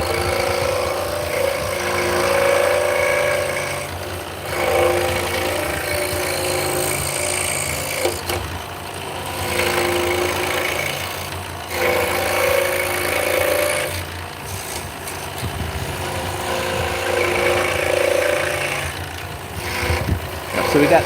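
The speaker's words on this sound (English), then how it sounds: "the one cool thing about the scroll saw is that you can make internal cuts" Scroll saw blade making internal cuts through wood, a steady buzzing motor drone with repeated short pauses between passes as the blade is threaded through drilled holes, close and fairly loud.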